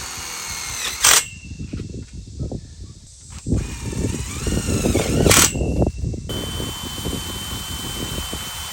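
Power driver whirring as it drives a carriage bolt into a high tunnel frame, with close, loud bursts and sharp clicks between runs and no talking.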